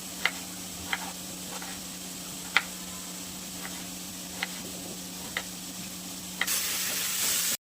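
Onion and tomato frying together in a pan, giving a low steady sizzle near at hand, broken by faint scattered clicks of a utensil and a louder hiss that swells just before it cuts off.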